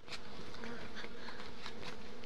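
Honeybees swarm around three beehives during a spring orientation flight by young bees, making a dense, steady buzzing drone with individual bees whizzing past close by.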